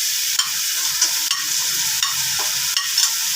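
Mixed vegetables sizzle loudly in a pan as tomato goes in, a close, constant frying hiss broken by several sharp stirring scrapes at roughly even intervals.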